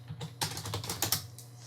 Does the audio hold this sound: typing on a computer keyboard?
yes